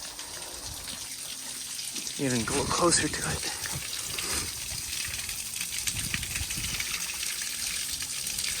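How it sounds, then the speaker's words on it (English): Waterfall on a cliff edge on a rainy day, a steady broadband gush of falling water running throughout, close and fairly loud, with people talking over it. "right here by this waterfall"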